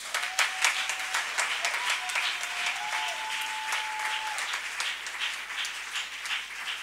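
A church congregation breaks into sustained applause, dense steady clapping filling the room throughout, with a faint sustained tone drifting above it.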